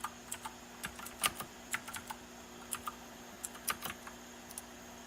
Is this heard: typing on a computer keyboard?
yes